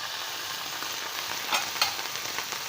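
Chicken Manchurian frying in a pan while a spoon stirs it, a steady close sizzle with two brief scraping strokes standing out near the middle.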